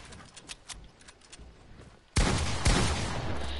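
Game gunfire in a one-on-one video game match bursts in abruptly partway through, loud and sustained with a second sharp shot, after a quieter stretch of faint clicks and movement sounds.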